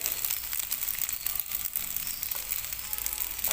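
Steady, dense sizzling and scraping from rice with egg and seaweed being stir-fried in a hot pan, continuous and fairly loud throughout with no voices.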